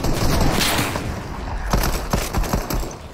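Rapid video game gunfire, bursts of close automatic shots over a dense rumbling mix of battle noise, loud and continuous.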